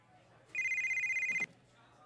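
An oversized mobile phone rings inside the video game Grand Theft Auto: Vice City, giving one bright, warbling electronic ring burst of just under a second, clear against low game ambience.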